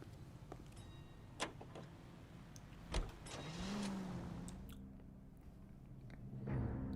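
A car driven in the L.A. Noire video game, its engine a steady low hum with a few sharp clicks and a thump, then a rising rev as it pulls away; no talk.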